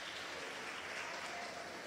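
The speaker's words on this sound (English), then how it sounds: "Can we please give her a round of applause?" Audience at a youth event in South Africa applauding a board member, a steady, fairly faint wash of clapping from a distance with no voices over it.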